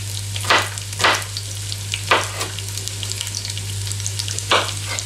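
Onions fry in a pan with a constant sizzle, broken by several loud bursts of crackling as they are stirred, alongside a low steady hum.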